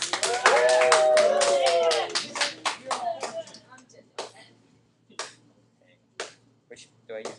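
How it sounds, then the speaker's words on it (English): Classroom applause for a student called up to the board, a burst of many hands clapping near and loud that thins into scattered claps and a few stray taps. "Everybody give Aiden a round of applause"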